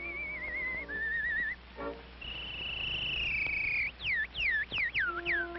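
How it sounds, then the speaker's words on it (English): A whistling artist performs on an early Edison recording: clear sustained and warbling whistled tones, then a run of rapid swooping high notes, over steady old-record hiss. "the whistling artist."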